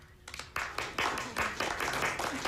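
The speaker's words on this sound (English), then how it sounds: "Please put your hands together in applause for Miss Winfrey, Miss Oprah Winfrey." An audience breaks into applause as a guest is introduced on stage, dense broadband clapping swelling in waves after a brief quieter start and holding steady, fairly close.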